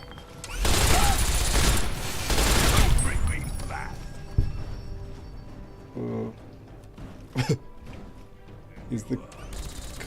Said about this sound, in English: Okay, back to the light machine gun.